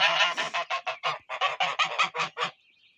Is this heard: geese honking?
yes